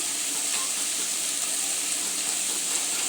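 Spices sizzling and frying in a hot pan with oil, a steady bright crackling hiss that stays even and close throughout, with no voices.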